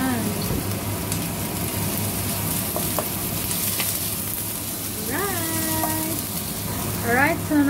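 White onion stir-frying in a pan for stewed beef: a steady, close sizzle runs throughout, with a faint voice briefly rising over it near the end.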